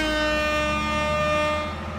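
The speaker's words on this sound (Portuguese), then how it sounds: "Juninho Terra, tô buzinando aqui." Sustained loud horn from a Mercedes-Benz 1620 truck, a steady multi-tone blare holding for about two seconds with a low engine rumble underneath, no talk.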